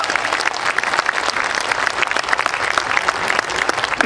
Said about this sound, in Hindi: एक बार सारे लोग इसरो के लिए जोरदार तालियां बजाइए।